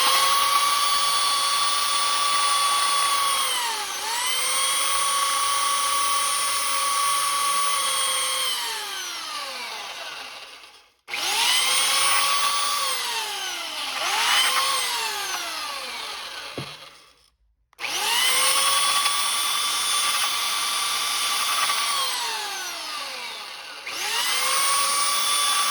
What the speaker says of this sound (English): I'm actually going to use a portable kind of belt style sander now.